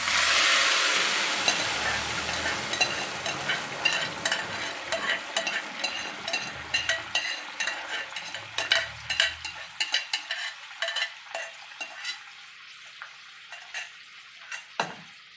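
Dal curry (parippu) is stirred as it fries in a pan: a loud sizzling hiss at first settles as a spoon scrapes and clinks against the metal in a quick, uneven rhythm, close by and with no talk.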